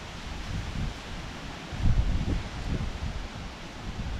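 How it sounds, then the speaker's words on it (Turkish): Wind rustling through trees and leaves, a soft continuous outdoor whoosh that swells in gusts, with no voices. "rüzgar var ya bugün hiç durmadı"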